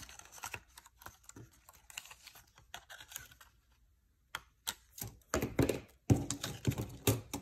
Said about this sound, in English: all you would have to do is with your scissors is just cut right along the edge, just like that